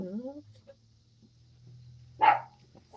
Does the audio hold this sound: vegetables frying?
no